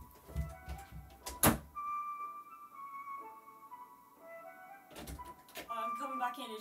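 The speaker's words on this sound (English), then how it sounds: "You'll hear the door slam." A door bangs shut with one sharp, loud thud, followed later by a second knock of the door and faint clattering, with quiet electronic game music playing underneath.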